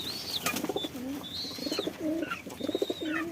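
Pet pigeons coo repeatedly in soft, rolling bursts, eager for a feed of mixed grain with wheat on a rainy day, with a few sharp higher chirps between the low, throaty calls, moderately close.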